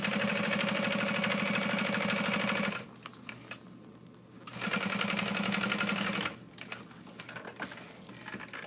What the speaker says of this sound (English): I'm going to sew right next to the stabilizer